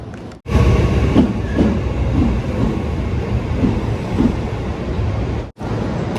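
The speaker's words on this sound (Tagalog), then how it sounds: "Andito na yung train. Sakay na tayo." A train pulls into a station, its loud rumbling roll and rhythmic wheel clatter filling the scene close by, with a brief drop at the start and another near the end.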